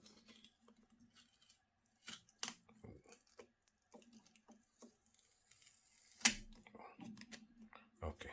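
Snipping and crinkling as the packaging on a Festina Automatic Diver watch is cut away during unboxing, with brief sharp cuts and rustles alternating with someone talking.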